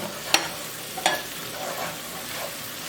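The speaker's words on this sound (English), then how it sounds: "And now we're gonna add the parsley, chopped parsley. Stir." Chopped parsley stirred into slightly browned onions frying in a pan for fish bouillon gives two quick scraping strokes over a faint, steady sizzle.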